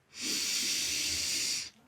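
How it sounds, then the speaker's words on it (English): A single forceful breathy exhale on an open-mouthed "ha" in a lion's breath yoga exercise, a close, airy hiss lasting under two seconds. "With your exhale, you make a ha sound like this."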